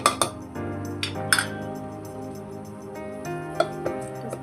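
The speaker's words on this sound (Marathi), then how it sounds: "आपण याच्यात आता तांदूळ टाकूया." Rice goes into a metal pan of spinach pulao cooked with shahi biryani masala, with sharp spoon clinks against the pan and a ringing metallic resonance recurring several times, close and fairly loud.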